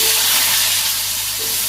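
Potatoes go into hot oil with dried red chillies and cumin seeds, producing a loud, dense sizzling hiss that stays steady and close for the whole moment.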